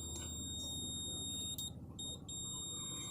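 A multimeter continuity buzzer beeps while probes test a capacitor and resistor on the power supply board of a Mi LED TV, model TPD.T950X; steady high tones sound in several bursts with brief gaps, over low background hum.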